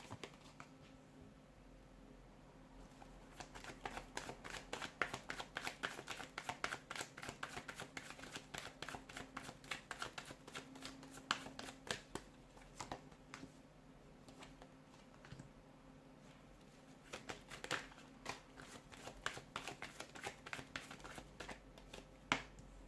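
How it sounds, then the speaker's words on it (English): Cards being shuffled in repeated quick riffling bursts, close up and fairly quiet, with brief pauses between rounds and no talking. "give the cards a shuffle"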